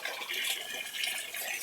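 Water is poured over a dog named Benny during a bath, a steady close splashing flow that stays fairly quiet and runs without a break.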